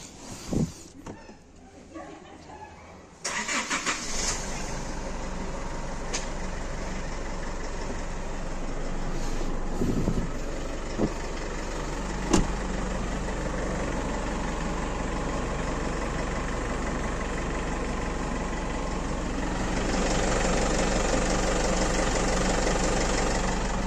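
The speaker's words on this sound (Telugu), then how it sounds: "సో ముందుగా ఇంజన్ సౌండ్ చూద్దాము." An Isuzu V-Cross 2.5 pickup engine idles with a steady, low, even rumble that runs throughout, with a few faint clicks and thumps near the middle and no talking.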